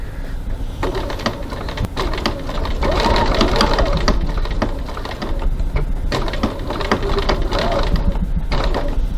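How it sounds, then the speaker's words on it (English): Sewing machine stitching across a line to close off a pen pocket, its rapid mechanical whir running almost continuously with brief pauses and slight speed changes, close and prominent. "So now I'm stitching across my line just to close off my pen pocket"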